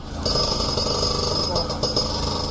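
Firefighters drill and break up the collapsed concrete pieces of a house at a crash site, a loud, continuous rattling jackhammer pounding away nearby, with a voice speaking over it.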